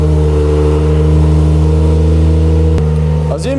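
Toyota Chaser fitted with a GT86 differential, engine running loudly at a steady, even drone close by, with a brief dip and shift in pitch at the end.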